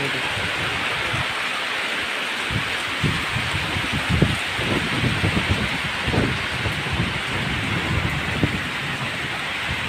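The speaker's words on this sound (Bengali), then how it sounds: "আর বৃষ্টির সাথে সাথে জড়ো হাওয়া বইছে" Heavy rain pours steadily with a dense hiss on a rooftop, while low rumbling gusts, like wind and distant thunder, swell underneath as trees sway.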